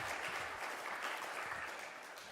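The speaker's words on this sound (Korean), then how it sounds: "우리 찬양대 위에서 현악반 위에서 다시 한번 뜨거운 박수 주시기 바랍니다" Congregation applauding a church choir and string ensemble during a Sunday morning service, a faint, distant, even wash of clapping that tapers off slightly toward the end.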